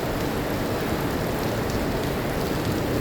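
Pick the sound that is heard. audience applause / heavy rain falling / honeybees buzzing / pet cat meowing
heavy rain falling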